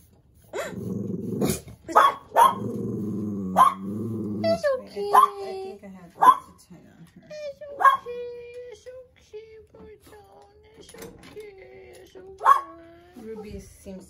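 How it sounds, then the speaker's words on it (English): A dog being groomed at home growls in low rumbles broken by sharp yips and short barks, close and fairly loud, while a person talks over and between the sounds. "She's always so nice, and then she has this evil growl."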